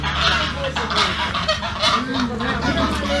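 Poultry at a chicken coop beside an old Molokan house in Armenia give loud, continuous honking calls against outdoor background noise, with a little speech mixed in.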